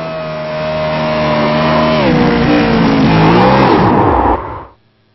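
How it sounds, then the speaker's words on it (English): A race car does a tire-burning burnout at a New Hampshire Friday showdown: a loud, close engine roar builds, its pitch bending downward, then cuts off abruptly. "As we watch him burn the tires down"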